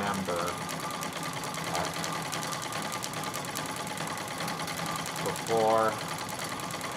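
A Singer 66 treadle sewing machine runs through free motion quilting with a continuous rhythmic mechanical chatter, close and steady, while a voice speaks briefly over it.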